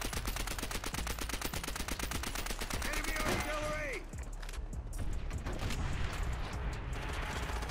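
Rapid automatic gunfire in Call of Duty: World at War, steady bursts of rattling shots with occasional louder bangs, mixed with a brief explosion-like swell and game effects, played fairly quietly throughout.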